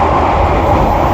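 The KA Ranggajati passenger train runs at about 95 km/h, heard from inside a business-class carriage as a loud, steady roar and rumble of wheels on noisy rails.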